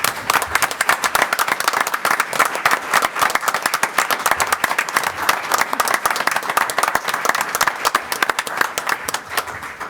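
Meeting attendees at a county commissioners' session applaud after a unanimous vote, a dense, steady round of clapping that fills the room for the full ten seconds at even loudness.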